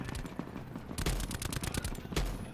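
Gunfire crackles in Call of Duty: Black Ops 4 on the Alcatraz map, with rapid bursts of automatic shots heard at a moderate distance and a few louder bursts standing out.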